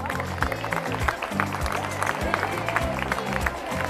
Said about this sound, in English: Let's put our hands together and clap for our patron.